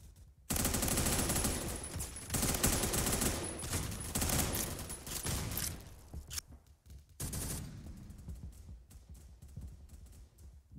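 Rapid automatic gunfire rattles in dense bursts during a Phantom Forces match, loud and close, then thins into scattered shots with short gaps.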